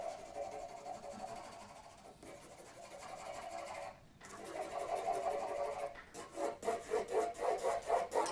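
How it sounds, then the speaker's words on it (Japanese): Graphite pencil rasps steadily across paper while shading a drawing of wood texture in a quiet room, a continuous soft scratching that pauses briefly, then breaks into quicker rhythmic back-and-forth strokes near the end. "鉛筆が紙の表面を滑る音"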